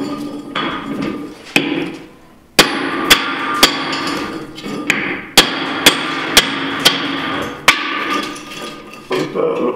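A hammer breaks ore-bearing rocks into pieces by hand for gold or silver testing: sharp, loud, close blows, about a dozen irregular strikes with short pauses and a brief lull early on.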